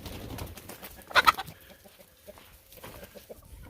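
Backyard chickens let out onto a compost pile, clucking softly with a brief louder burst of squawks near the middle, amid faint scratching and quiet outdoor ambience.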